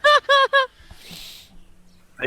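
A bird call sound effect meant as an eagle, played as three loud, sharp, harmonic squawks in quick succession, followed by a softer hissy rasp and then quiet.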